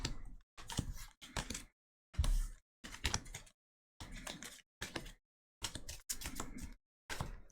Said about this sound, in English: This is how I shuffle cards